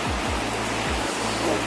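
River water rushing steadily where the flow splits into two rivers at Bhutan Chowki, a continuous close wash of noise with a few low rumbling thumps early on.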